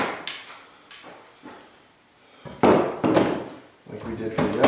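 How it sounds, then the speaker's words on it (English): A metal clamp set down and tightened on a woodworking workbench built for a CNC machine, heard as a few clunks and knocks, some close and fairly loud, with quieter handling sounds between them. "Throw a clamp on it,"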